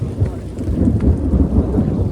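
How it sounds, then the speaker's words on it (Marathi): Thunder rumbling from storm clouds on a mountain trek, a deep continuous low roll that fills the whole short stretch, fairly loud and without talk. "गाईस तुम्ही बघू शकता आभाळ चालू आहे ढगांचा."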